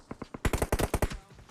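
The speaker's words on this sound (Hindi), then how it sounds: "मैं गोलियां बर्बाद करता हूं उन पे" Video game gunfire: a few spaced single shots, then a fast, loud automatic burst of close rounds that trails off.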